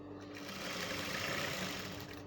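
A sewing machine runs steadily while stitching bias binding along a curved edge, a close, even, whirring hum with continuous needle chatter from start to finish.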